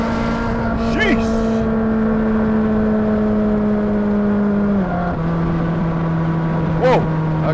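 A car engine screaming at high revs at speed, one long sustained whine that drops in pitch at a gear change, with brief voices breaking in.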